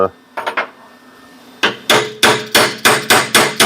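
A hammer taps a hardened steel tool being made for a Corvair bearing adjusting sleeve: a few light, quick taps, a pause, then about seven sharp, ringing metallic blows in a steady rhythm, close and loud.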